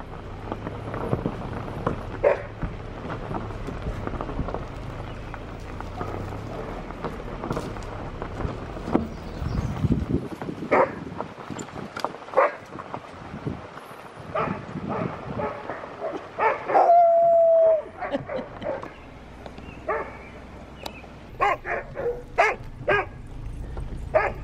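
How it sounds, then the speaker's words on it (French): Sled dogs outdoors in a yard, barking, yipping and whimpering in scattered bursts over about twenty seconds, with one brief howl-like whine near the middle, mostly near and moderately loud. "C'est des chiens de traîneau qui courent tout l'hiver."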